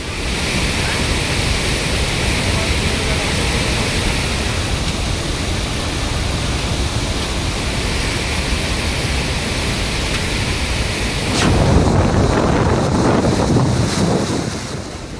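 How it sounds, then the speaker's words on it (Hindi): Roaring, rain-swollen river in Kullu after heavy rain, a loud unbroken rushing torrent like heavy wind and surf, close to the microphone and swelling harder near the end. "नदियों का पानी किस कदर दहाड़ रहा है, इसके शोर से आप समझ सकते हैं।"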